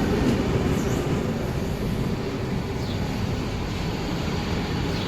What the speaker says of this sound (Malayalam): ഇതാണ് നമ്മുടെ ട്രെയിൻ, നാപ്പോളി സെൻറ്ററിലേക്കുള്ള ട്രെയിനാണ്